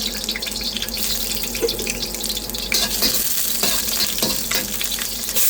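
Ginger sizzles and crackles steadily in hot avocado oil, a continuous close frying hiss with occasional stirring clatter and no talking.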